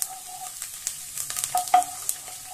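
Garlic sizzles in hot oil in a pan, a faint, uneven crackle with small pops and stirring scrapes, close by and without talk.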